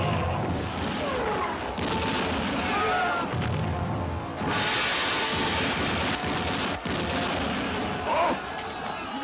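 Gunfire and booming explosions from battle scenes in the North Korean monster film Pulgasari, a loud dense barrage with crashes and bursts running throughout, mixed with crowd noise.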